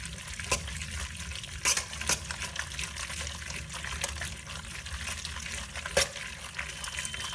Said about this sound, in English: Now you just want to keep stirring that.